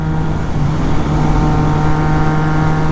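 Triumph Trident 660 motorcycle engine held at high, steady revs against the rev limiter, a loud, continuous close-up drone with a strong constant pitch for three seconds.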